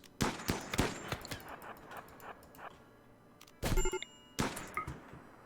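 Bursts of gunfire in the colony game RimWorld crack out in quick irregular volleys, several sharp shots clustered early, then a pause before two louder bursts near the end.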